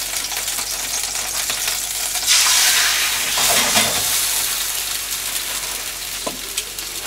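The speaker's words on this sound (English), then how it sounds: "all I want to do is just kind of sear the outside of each of these" Pork roast sears in a hot pan of olive oil, a loud steady sizzle that swells when the meat meets the pan, with a few clinks near the end.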